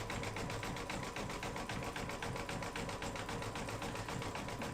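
An embroidery sewing machine stitches green thread on an in-the-hoop mug rug, running with a fast, even mechanical clatter of regular needle strokes that continues without pause, close and alone.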